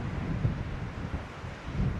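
Strong wind buffets the microphone on a rough day on the Danish coast, a loud, continuous rushing roar with low gusting thumps and no voices.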